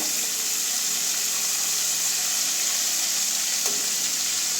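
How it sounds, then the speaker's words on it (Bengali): Flour-coated loach fish frying in a pan of hot oil, a dense steady sizzle that stays loud and close throughout, with one faint clink partway through. "এদিকে দুদিকেই একটু লাল লাল করে এরকম ভেজে নেব"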